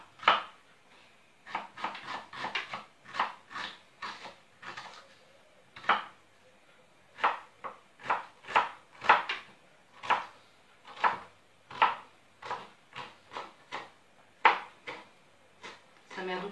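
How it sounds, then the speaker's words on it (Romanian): An onion being chopped finely with a knife on a board, about two dozen quick sharp cuts in uneven bursts, close and clear against a quiet kitchen. "Acum tăiem ceapa. Mărunțel, mărunțel."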